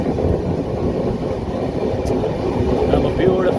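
The Mysore Superfast Express rolls along with a dense, continuous rumble and rattle, heard from near an open door, with wind noise and faint scattered clatter.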